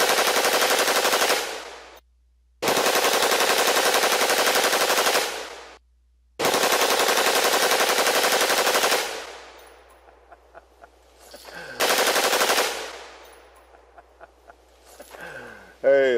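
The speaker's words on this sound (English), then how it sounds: "Full auto fire through an M16." Non-suppressed M16 rifle firing full auto in several long, loud bursts separated by short pauses, each burst ringing off into echo, with shell casings clinking between strings.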